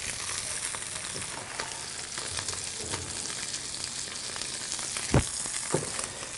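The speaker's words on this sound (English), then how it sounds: "it's just going to get nice and golden and crisp on the outside" Hapuku fish sizzles steadily in a hot pan, a continuous close crackling fry with a couple of louder knocks near the end and no voices.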